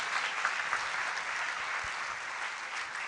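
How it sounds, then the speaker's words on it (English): Audience applause at a memorial lecture, a steady, fairly soft patter of many hands clapping that continues evenly throughout. "Ladies and gentlemen, she deserves a round of applause."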